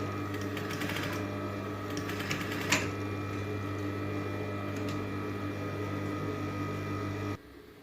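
A sewing machine runs a steady, quiet stitching hum along a zipper seam, with a few soft clicks and a brief louder knock partway through, then stops abruptly near the end.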